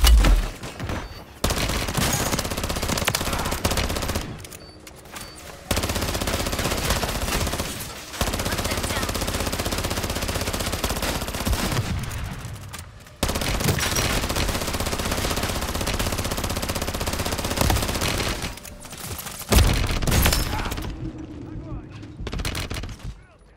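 Near-continuous rapid gunfire from Call of Duty MWZ (Modern Warfare Zombies) while playing Dokkaebi, loud bursts broken by brief pauses, with someone talking over the shooting.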